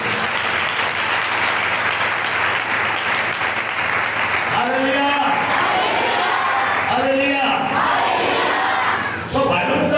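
A church congregation claps loudly during a Pakistani sermon, dense continuous applause mixed with crowd voices and a preacher speaking over it throughout.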